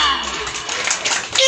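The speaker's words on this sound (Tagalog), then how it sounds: "palakpak pa!" A group claps along during a Kapampangan sing-along, with steady close applause-like patter mixed with children's voices and chatter throughout.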